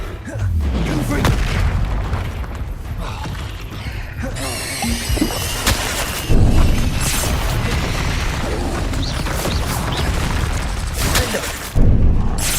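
Confringo fire-spell blasts booming repeatedly in the Hogwarts Legacy video game, with loud low explosive thumps and crashing impacts throughout, punctuated by heavier bursts, amid continuous game action and effects.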